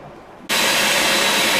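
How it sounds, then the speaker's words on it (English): A vacuum cleaner starts abruptly on aquarium pipes and runs at a loud, steady roar after a brief quiet moment. "I'm just going to vac all these, so you guys don't need to see me run a vacuum for half an hour"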